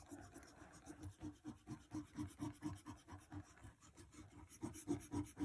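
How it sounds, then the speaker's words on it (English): An eraser rubs back and forth over a pencil drawing on paper, a soft, close, rhythmic scratching that repeats steadily throughout. "Let me erase his eyes."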